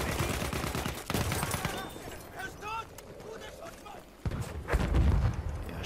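Bursts of rapid gunfire and single shots in Battlefield 1 online, mixed with other sharp effects, with someone talking over parts of it.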